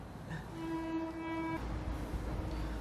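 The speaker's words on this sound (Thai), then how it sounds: "เดี๋ยวรอรถไฟผ่านก่อน" A train passes nearby, sounding a single sustained horn blast before a deep rumbling roll of rail cars takes over and continues to the end.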